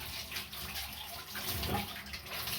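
Tap water runs steadily and fairly faintly into a sink while fish is being washed, with a soft splashing wash and no talking.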